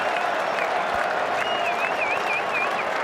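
A huge cricket-stadium crowd roars and applauds after England take a wicket against India in the 2002 NatWest Series one-day final. The dense, steady cheering fills the whole stretch without any commentary over it.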